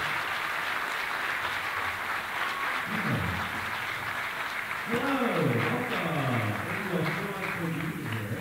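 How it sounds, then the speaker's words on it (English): A school winter concert audience at Dominion High School applauds in a sustained, even wash of clapping, with musical tones rising over it in the second half. "How about another big round of applause"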